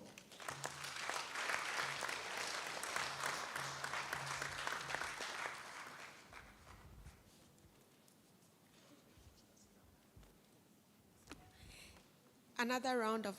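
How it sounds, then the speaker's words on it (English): A conference audience at a climate change resilience event claps loudly and densely for several seconds after a speaker, then the applause dies away into a quieter room with a voice at the end. "Another round of applause for our speaker."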